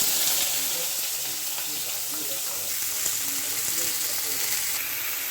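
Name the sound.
vegetables added to hot oil, frying and sizzling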